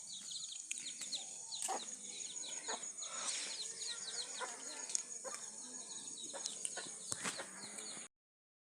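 Backyard chickens cluck softly and sporadically at a distance, with scattered short calls over a quiet rural background.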